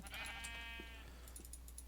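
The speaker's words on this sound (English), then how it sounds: "Ooh, sheep." A sheep in the video game Minecraft gives a single wavering bleat, faint and thin, over a low steady background hum with no talking.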